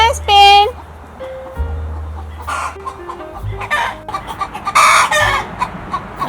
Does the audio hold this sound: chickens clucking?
yes